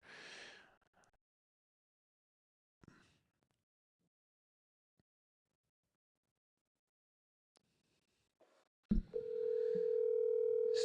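A steady, loud telephone dial tone sounds during call placement, arriving abruptly near the end after a mostly quiet stretch with a few faint breaths and small clicks.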